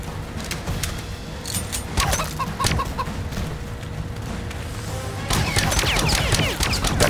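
Chickens cluck repeatedly in the video game Sniper Ghost Warrior, a steady busy run of short clucks over constant background ambience, growing denser toward the end.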